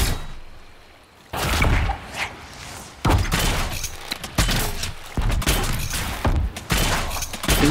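Loud bursts of rapid gunfire in Dragon Age: Inquisition come in several volleys separated by brief pauses, with booming impacts mixed in, close and intense.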